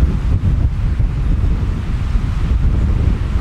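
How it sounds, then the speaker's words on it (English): Storm wind out in the woods, a continuous loud roar with gusting rumble, like wind rushing through trees, heavy buffeting on the microphone and no voices. "how you can hear the wind coming through the trees as it's approaching you"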